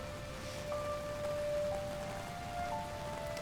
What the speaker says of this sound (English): Thousands of little raindrops disappear into this subterranean flow of filth.